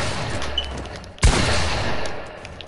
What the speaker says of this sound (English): I'm just shooting you with my shotgun